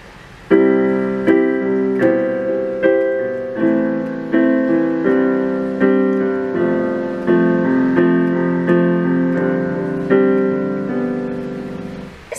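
Solo piano plays the gentle intro of a song, steady chords struck roughly every second with sustained ringing tones, close and clear, no voices.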